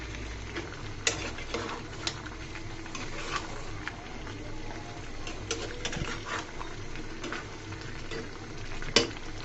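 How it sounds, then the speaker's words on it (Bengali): Sweet pumpkin cooking with chopped tomatoes in a pan, a continuous sizzling hiss from start to finish, with scattered scraping and tapping as the mixture is stirred, close and even in level, no voices. "আবারও নেড়ে চেড়ে দিচ্ছি আমি"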